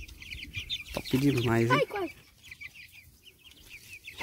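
A free-range Caipirão chick gives a short, loud run of chirping clucks up close. A faint second peep follows, with soft voices talking nearby in Portuguese.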